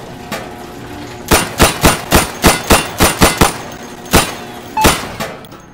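Gunfire in the video game Insurgency: a rapid run of about nine loud, sharp shots in a steady rhythm at a moving target, then two more spaced shots, with no talk.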